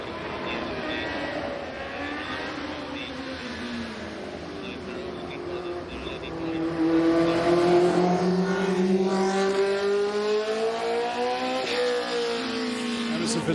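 A race car climbs the Goodwood hill at the Festival of Speed, its engine note rising and falling through gear changes, swelling louder midway as it draws nearer, with a voice talking over it.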